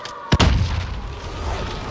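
One loud, close shot cracks out in Call of Duty Rebirth Island, followed by a heavy booming rumble that lingers and slowly fades over the next second and a half.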